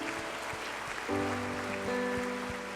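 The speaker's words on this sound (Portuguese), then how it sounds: "Quero dar um aplauso ao Senhor, por favor." A church congregation applauding, soft rain-like clapping under sustained musical tones that swell partway through.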